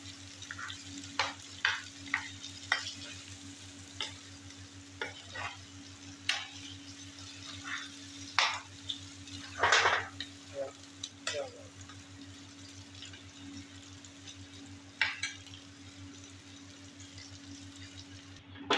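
Quiet sizzling of spice tempering in a hot pan for minced meat, with scattered crackles and pops over a steady low hum, no one speaking.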